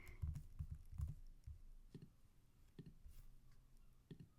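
Several soft computer keyboard key presses while working in the Kingdom Death: Simulator board game, with a quick cluster of clicks near the start, then isolated taps spaced apart, faint and close over quiet room tone.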